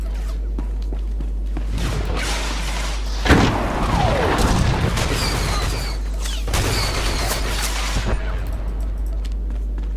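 Blaster gunfire from the Star Wars: The Old Republic video game, heard as bursts of booming shots and thuds with a couple of sharp loud blasts over a steady low hum, in dense clusters with no talking.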